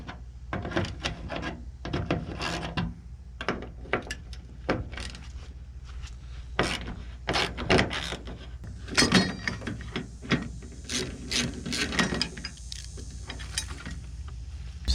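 Screws being backed out of a 1988 Chevrolet Suburban door panel, with a steady run of short clicks, scrapes and knocks from the tool and metal close by, no talking.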